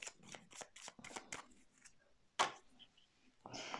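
Tarot cards are shuffled close by for a reading, a series of crisp riffling bursts and soft flicks at low volume, ending with a longer rustle.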